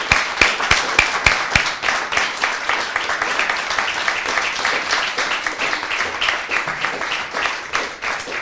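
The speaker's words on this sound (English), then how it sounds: "So please give a revolutionary round of applause to tonight's guests and enjoy the evening." An audience gives a sustained round of applause welcoming guests to an evening talk event, dense steady clapping that fills the whole stretch and stays loud and even throughout.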